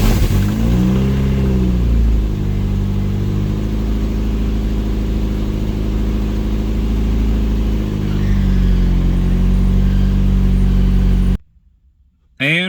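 A Toyota MR2 engine runs close by, rising in a smooth rev and falling back to a steady idle, with a second gentler swell later before the sound cuts off abruptly near the end.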